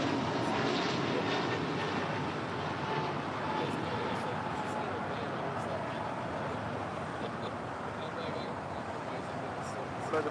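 An American Airlines Airbus A321neo jet departs for Philadelphia, heard as a faint, steady, distant broadband engine roar that stays even throughout.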